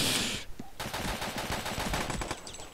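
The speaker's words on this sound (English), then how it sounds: "I shot him in the head 2 or 3 times." Rapid gunfire from the stickman combat game Boring Man comes as a dense, loud burst of repeated shots. A short hiss comes first, then a quick, steady stream of shots to the end.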